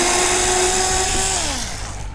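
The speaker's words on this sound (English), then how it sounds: "just let it drill on through, and there we're through" A power drill bores through a wooden frame during a quad build, its motor whining loudly and steadily before the pitch drops and winds down as the bit breaks through.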